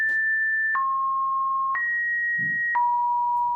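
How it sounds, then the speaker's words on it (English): Sustained electronic beep tones alternating between a higher and a lower pitch, switching roughly once a second over a steady low hum, with a brief soft thump near the end. "unsettling beeping noises"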